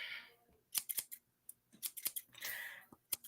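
Scissors snip close up in a quick series of sharp, crisp cuts with short irregular pauses, quiet and alone without voices.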